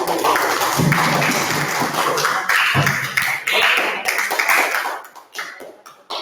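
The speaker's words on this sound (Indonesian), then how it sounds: "beri tepuk tangan dengan tanda setuju" A classroom of students claps together in agreement, a short burst of hand claps lasting a few seconds with some background chatter, then trailing off into scattered taps.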